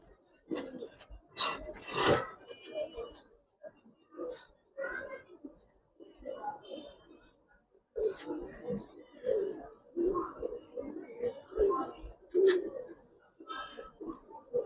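Giribaz pigeons coo in low, soft bursts at close range while someone talks over them, with occasional feather rustling and handling noises.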